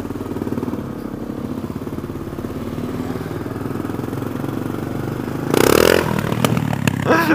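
A 50cc moped engine drones steadily nearby, then surges into a sharp, louder rev near the end as the rider pulls a wheelie, followed by a rattling clatter.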